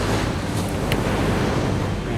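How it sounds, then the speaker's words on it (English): Large ocean waves roll onto a beach in a steady, loud wash of surf, mixed with wind buffeting the microphone, as heard from a fishing boat holding offshore. "We can't get any closer to the beach because there's some bad waves."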